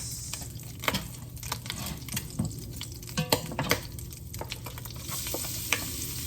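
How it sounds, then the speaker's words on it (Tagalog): Garlic and onion sauté in a kawali, a soft crackling sizzle with sharp scraping stir strokes and occasional utensil clicks, close and without speech. "Ito po natin igisa ang bawang sibuyas."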